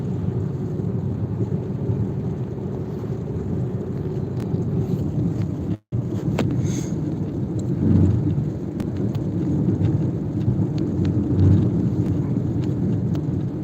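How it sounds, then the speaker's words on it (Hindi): Light drizzle falls outdoors as a steady, dense hiss with a low rumble underneath, broken only by one brief dropout midway. "अब देखिए ये बूंदाबांदी फिर पड़ने लगा है।"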